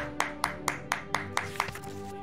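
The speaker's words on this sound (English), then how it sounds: "Let's give a round of applause, everybody." Steady, evenly spaced claps, about four per second, from a small group during an online streamer show, crisp and fairly close with no talking over them.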